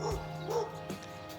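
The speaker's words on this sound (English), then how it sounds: "Cute dog." A dog gives a couple of quick yipping barks and a short whine close by during an at-home workout, then falls quiet over a low steady hum.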